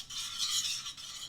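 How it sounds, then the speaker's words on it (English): Garlic fries in hot olive oil in a pan, a soft, steady bright sizzle that swells slightly and then eases back over about a second, close and fairly quiet. "Our garlic is frying up real nice"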